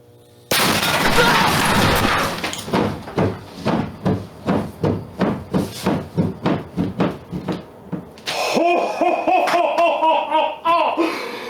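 A turkey explodes and wrecks a table in a rapid, loud series of sharp bangs and cracks, about twenty pops in regular succession, followed by a harsher ringing crash and clatter at the end.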